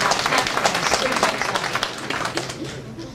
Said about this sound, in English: Now you guys can clap for her, she did a great job.